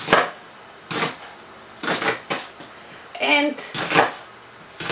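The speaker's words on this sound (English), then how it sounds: "I washed the green onions and I chopped off the tops and the bottoms, so now I will just chop them." Green onions being chopped with a knife on a board, a series of separate firm cutting knocks with gaps between them, while a person talks in between.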